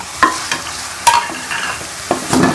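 Taro root (arbi) frying in spice masala in a pan, a continuous sizzle broken by several sharp scraping stirs of a spatula, close and fairly loud with no talking.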